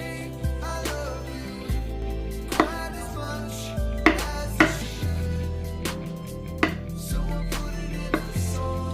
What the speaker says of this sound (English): You weren't joking when you said you're rough chopping those avocados.